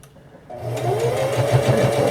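A sewing machine stitches fabric slowly after a short quiet start, its steady whirring hum carrying a regular pulsing needle rhythm, close and moderately loud.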